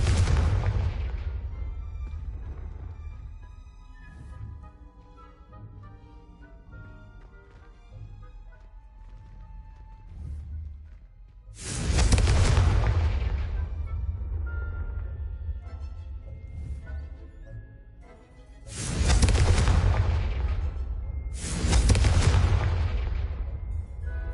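Blasting spell explosions in a Hogwarts Legacy wizard battle: three loud, booming bursts with crackling debris, two close together near the end, over a continuous low rumble and music bed.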